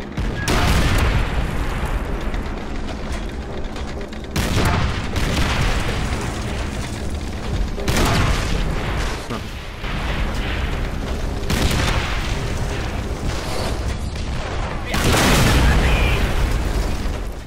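A tank explodes during a Team Deathmatch on the Downfall map in Call of Duty World at War on Xbox 360, with heavy booms and bursts of gunfire repeating through the whole stretch.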